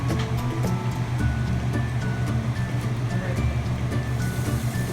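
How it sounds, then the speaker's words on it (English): Water pours into a soup pot for Puerto Rican salami noodle soup (sopa de fideos con salchichón), making a steady rushing splash that runs without a break for five seconds over a faint low hum. "I'm gonna start adding the water."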